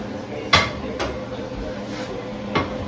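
A cooking pan set down on a stovetop lands with a sharp metallic clack, followed by a softer knock and a later light clunk, over faint kitchen background.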